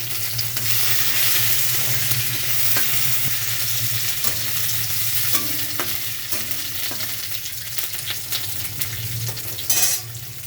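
Ginger and curry leaves sizzle steadily in hot oil with chana dal for a beetroot palya, a continuous close frying crackle with occasional stirring clicks and no talk.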